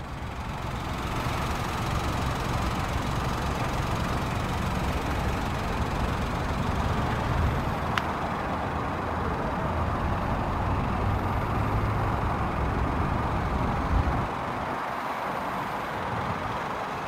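A 2014 Toyota IQ with a 1.0 VVT-i three-cylinder petrol engine idling steadily, a close, even low rumble that holds throughout with a slight dip near the end.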